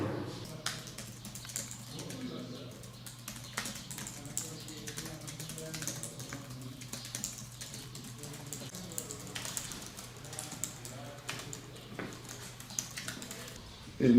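Rapid, continuous clicking of keys on a computer keyboard, a dense fast patter close to the microphone, steady throughout.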